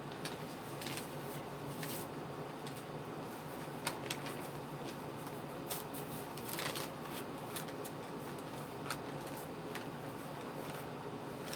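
Soft paper handling during crafting with dyed paper, with faint rustles, crinkles and sheets sliding against each other in scattered, quiet bursts over a low background hiss.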